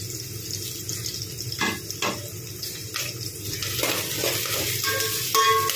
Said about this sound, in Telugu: ఉల్లిపాయలు బాగా ఫ్రై అవ్వనివ్వండి.